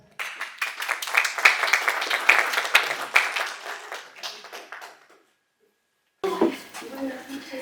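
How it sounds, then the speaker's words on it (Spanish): An audience at a talk on cultural economies claps for a speaker being welcomed, a dense patter of hand claps that builds, holds, then dies away into silence before a voice begins speaking. "Recibimos a Joana con un aplauso."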